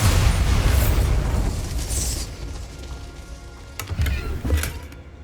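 Bombarda exploding spell in the video game Hogwarts Legacy: a loud, rumbling blast with crackling debris that fades over a few seconds, followed by two smaller sharp bursts near the end.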